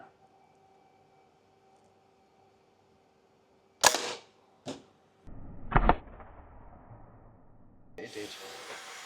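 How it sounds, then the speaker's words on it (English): Air rifle shots striking an Ohme Home Pro EV charger: two sharp cracks a moment apart, then a louder clattering impact, with a quiet background before and a rushing noise at the end. "see if an Ohme Home Pro can survive an air rifle"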